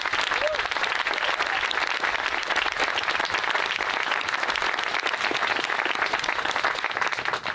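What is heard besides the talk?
applause for the band at change of command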